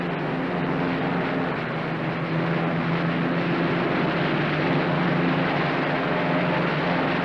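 The engine of a Northrop P-61 Black Widow drones steadily during a propeller RPM check, a loud continuous roar with a low throbbing tone and no pauses.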